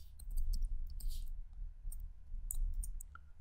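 Light plastic clicks from typing on a computer keyboard in a quiet room, short irregular bursts of keystrokes with gaps between them and no speech.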